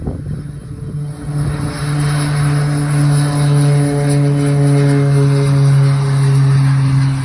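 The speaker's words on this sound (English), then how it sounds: "The frequent comings and goings of the seaplane are a sight to behold, and a signature Maldivian memory." A Trans Maldivian Airways seaplane's propeller engine drones steadily and loudly. It holds a strong, even tone that swells slightly as it goes and carries on alone with no speech.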